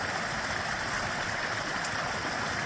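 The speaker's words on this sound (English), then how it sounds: "It's been 3 years since I've been able to see and hear the creek in back of my house running." A creek running behind a house during rainy weather, producing a constant, even rush of flowing water that fills the whole moment without any voices.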